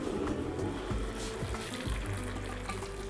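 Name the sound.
pouring boiled water into a pot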